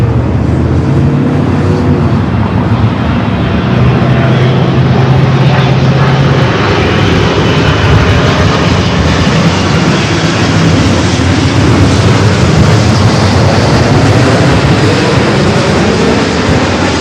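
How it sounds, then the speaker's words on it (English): A KLM Boeing 777-200ER jet arriving from Amsterdam roars steadily and loudly throughout, a broad sustained engine rumble with no talk. "It's like 777 at 200 ER coming up from Amsterdam,"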